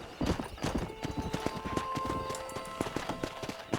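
A horse in the Red Dead Redemption video game gallops to the start of a race, its hoofbeats a rapid, steady clip-clop under a low, constant background hum.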